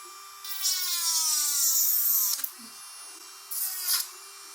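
Melody Susie Scarlet electric nail drill fitted with a sanding band, spinning at 20,000 RPM: a steady high-pitched whine that rises in pitch, cuts out briefly, then returns in a short second burst.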